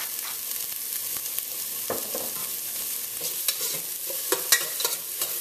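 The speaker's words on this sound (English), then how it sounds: "let this saute here for about a minute or 2 until the onions has gone soft" Onions and thyme sauté in a pan for callaloo, a soft steady sizzle broken by occasional scraping stirs of a spoon, close and fairly quiet with no talking.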